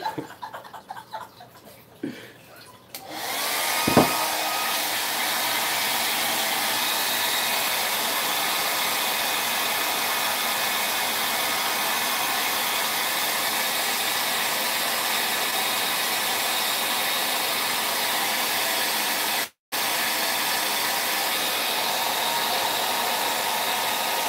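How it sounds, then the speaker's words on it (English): A hair dryer switches on after a few seconds of quiet room noise and runs with a steady, loud broadband whoosh, cutting out very briefly near the end before resuming, with no talk. "It's hair dryer time"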